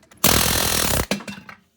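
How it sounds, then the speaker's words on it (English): Pneumatic air hammer pounding a Dodge Dakota steering knuckle beside the lower ball joint, one loud sustained rattling burst followed by a couple of short hits, close up in a garage. "bring out the dirty hairy air hammer, and we're gonna hit on the knuckle right here next to where the ball joint goes"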